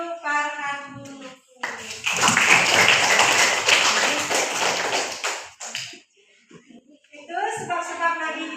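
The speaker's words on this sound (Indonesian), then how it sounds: "kita berikan tepuk tangan untuk Farhan dulu." A classroom audience claps for a student during a lesson, a dense burst of applause lasting about four seconds, loud and close, with a speaker talking just before and after it.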